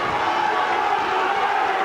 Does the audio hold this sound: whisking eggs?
no